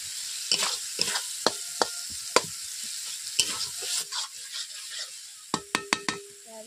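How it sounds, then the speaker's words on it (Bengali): Spices being sautéed and stirred in a pan for egg curry: repeated sharp scrapes and clinks of a spatula against metal over a steady close sizzle, with a quick burst of strokes near the end. "আমি এইভাবে সবগুলো মশলা দিয়ে কষিয়ে নিচ্ছি"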